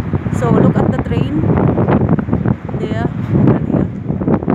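Strong wind roars and buffets the microphone steadily during light snow, with a voice talking over the gusts.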